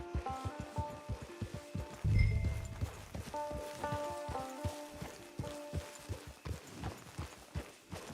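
Rhythmic clip-clop of horse hooves trotting steadily in Red Dead Redemption 2 Online, close and clear, over soft background music tones.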